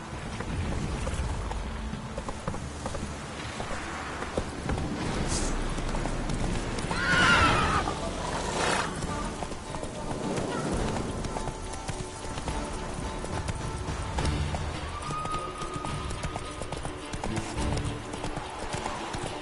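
A horse in the video game The Witcher 3: Wild Hunt gallops with rapid rhythmic hoofbeats throughout, neighing loudly once partway through, amid outdoor ambience and splashing movement.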